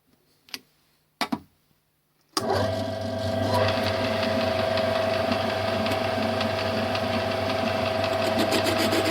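A few faint clicks come first, then a lathe starts up and runs steadily while boring out a hole-saw center hole to 8 mm. The motor hums continuously, loud and near, with a fine ticking texture.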